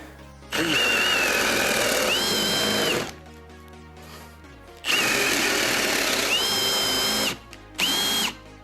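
A Milwaukee M18 FPD2 cordless impact drill runs at second speed in two long high-pitched whirring bursts, the tone rising as it spins up, then a brief third burst, loud and close, with no talking.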